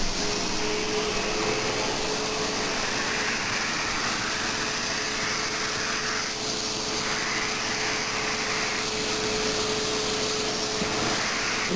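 A SEBO X4 vacuum cleaner with its hose runs loud and steady while cleaning up a mess, a constant whooshing suction roar lasting the whole time with no voices.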